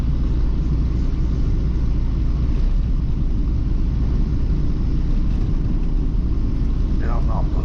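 A heavy truck hauling beans to the elevator, engine droning low and steady in tenth gear with road rumble throughout, loud and close from inside the cab.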